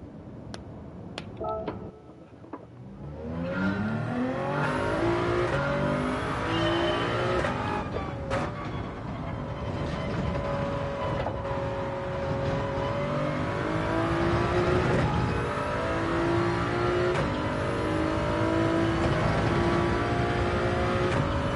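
A Toyota Supra race car engine in Gran Turismo 7 starts up and revs through its gears, rising and falling in pitch as it accelerates loudly and steadily through practice laps.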